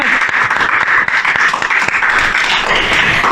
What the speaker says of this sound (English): I think that itself deserves a huge round of applause